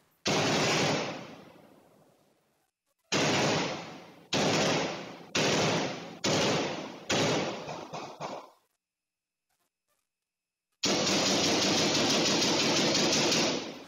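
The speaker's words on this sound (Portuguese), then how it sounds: "Houve tiroteio." Gunfire during an explosive robbery of a Caixa Econômica Federal bank branch in Duque de Caxias comes as loud, distorted, clipped bursts, several in quick succession, separated by a few seconds of near silence.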